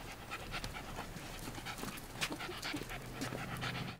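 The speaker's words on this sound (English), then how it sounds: "He's our rat terrier." A 14-year-old rat terrier pants quickly and softly close by outdoors near the water, a steady rhythm of short breaths with faint background ambience.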